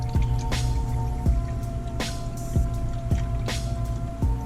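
Water cycling through a grinder platen, with steady wet drips and squishy plops recurring every half second or so over a constant low hum.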